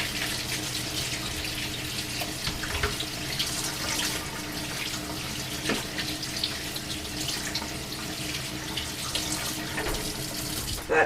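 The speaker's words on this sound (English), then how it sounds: "And I always rinse mine in cold water," Cold tap water runs steadily into a kitchen sink, splashing over canned potatoes as they are rinsed, a constant close hiss with small irregular splashes.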